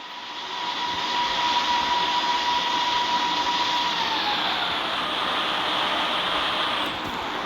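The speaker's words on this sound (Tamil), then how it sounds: "ஸோ மினி ஜெட் பேக் எடுத்துக்கோங்க. ஸோ பிக் ஜெட் பேக் கூட எடுத்துக்கோங்க" Steady jet-pack thrust from the video game Indian Bikes Driving 3D, a continuous whooshing roar with a thin whining tone that holds and then slowly drops in pitch, fading slightly at the end, with no voices over it.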